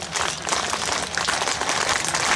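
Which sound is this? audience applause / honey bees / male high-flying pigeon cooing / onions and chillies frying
audience applause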